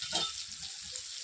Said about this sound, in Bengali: তেলের মধ্যে অল্প করে নেড়ে নিচ্ছি।